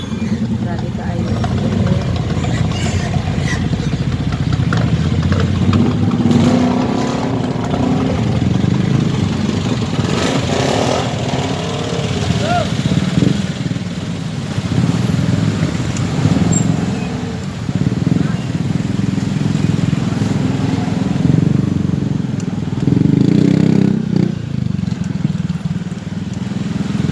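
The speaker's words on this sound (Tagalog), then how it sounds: "Sobrang traffic sa paligid." Heavy street traffic with motorcycles and cars idling and passing, a steady dense engine rumble throughout, fairly close and loud.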